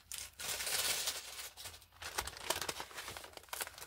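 A plastic bag crinkles and rustles up close in bursts of crisp crackling with short pauses between, handled loudly near the microphone and with no one speaking.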